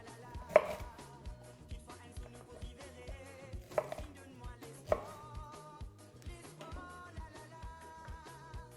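Cauliflower is chopped into pieces with a knife, giving a few sharp, separate chops spread out over several seconds beneath steady background music.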